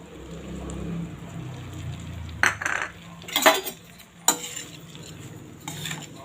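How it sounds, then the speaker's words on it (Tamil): Cooked rice mixed with citron juice in a vessel, soft stirring with several sharp clinks and scrapes of a spoon against the metal, close and intermittent. "இதை நல்லா மிக்ஸ் பண்ணிக்கலாங்க."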